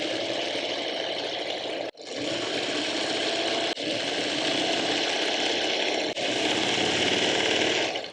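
A sewing machine stitches a square-in-a-square quilt block in long, steady runs of rapid needle whirring, close and fairly loud, with three brief pauses between seams and no talk.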